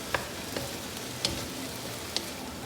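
Bean sprouts sizzle in oil in a wok for shrimp fried rice, a soft steady frying hiss broken by a few sharp clanks as the vegetables are tossed, fairly quiet and close.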